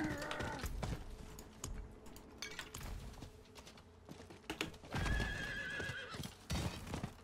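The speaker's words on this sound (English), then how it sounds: "So let's just hop on a horse and ride over there." A horse in the Diablo 4 video game whinnies and snorts while its hooves clip-clop in quick repeated beats as it is ridden, with brief clicking bursts alongside, all clear and close with no talking.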